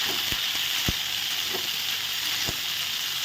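Potato, pointed gourd and eggplant fry in a pan with a loud, continuous close sizzle, broken by a few sharp clacks of a spatula against the pan, no talking.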